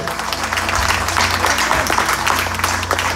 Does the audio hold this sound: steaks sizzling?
no